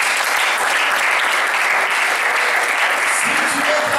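A church congregation at a French-language seminary service claps loudly and steadily, dense applause filling the room without a break, with a few voices rising briefly near the end.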